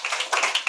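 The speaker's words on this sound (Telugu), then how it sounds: "చేతులు బాగున్న వాళ్ళు చప్పట్లు కొట్టి అందరూ స్తోత్రం చెప్పండి" A church congregation claps hands together in praise, a quick run of several close, rhythmic claps in a brief burst.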